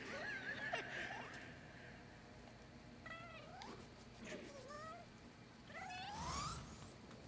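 A cat meows in the video game Nioh 2, several drawn-out, wavering meows spaced a second or two apart, moderately close and clear over quiet background ambience.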